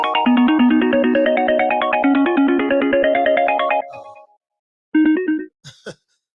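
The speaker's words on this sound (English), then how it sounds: "That's my phone ringing, guys." A phone ringtone plays a bright, repeating electronic melody for several seconds, loud and close, then cuts off, followed by a couple of short electronic chirps.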